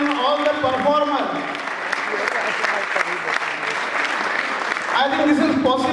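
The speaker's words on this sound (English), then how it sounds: "Let us give a big round of applause to Lions Club of Juhu and all the performers" Steady applause fills a hall at a Lions Club of Juhu fashion show, with dense clapping throughout and a voice speaking over it at the start and again at the end.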